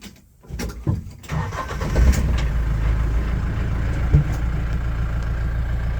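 Mahindra Roxor diesel work truck cranking and catching, then settling into a loud, steady, tractor-like clattering idle heard from inside the cab.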